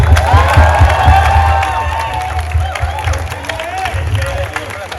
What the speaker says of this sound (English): a big round of applause for our 5th years, Catty and Aman Nair